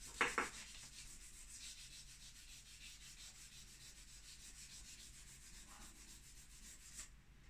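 Soft, steady rubbing of an eraser on paper during an art session continues for several seconds, faint and close, with a sharper scrape at the start and no talking.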